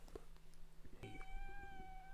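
Pepper, a young kitten a few months old, gives a short close meow followed by a longer, rising plaintive one, with no talk over it.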